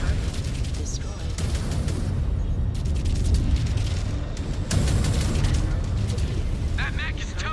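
Explosions and heavy weapon fire as a mech is destroyed in the MechWarrior video game, loud repeated booms and bursts in a dense, continuous battle mix with a voice talking over it.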